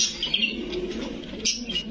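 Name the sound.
pigeon cooing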